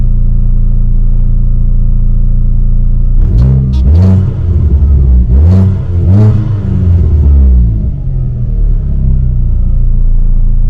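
A VW Lupo fitted with a 20VT engine, its check and EPC lights on after a decat, idles with a steady, loud, deep rumble, close up, and gets a few short revs partway through before settling back to idle.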